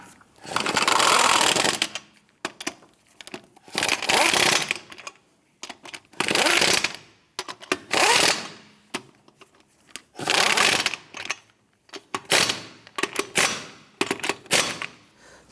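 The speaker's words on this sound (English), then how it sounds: "let's go ahead and snug those down." Lug nuts being snugged down on a 2008-2013 Nissan Rogue wheel during a CV axle job, heard as several loud bursts of rapid mechanical rattling of a couple of seconds each, separated by short pauses.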